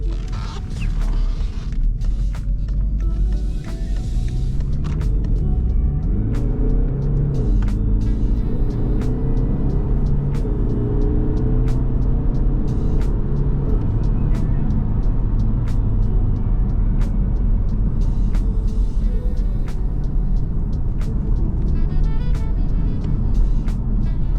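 Continuous low rumble of a 2019 BMW 520d Touring's 190 hp 2.0-litre inline-four diesel in sport mode, with road noise from inside the moving car and occasional creaks and rattles, steady and fairly loud throughout.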